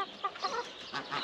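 Ducks, with geese and chickens nearby, in a hobby poultry coop in Taşköprü, Kastamonu, make a scattered series of nasal calls and honks, some close and some farther off, at moderate loudness with no talking.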